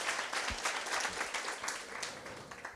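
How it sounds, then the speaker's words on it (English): Audience applauding at an entrepreneurs event in Motherwell, a steady patter of many hands clapping at moderate distance, fairly faint, with no talking over it. "Please, one more time, ladies and gentlemen, round of applause."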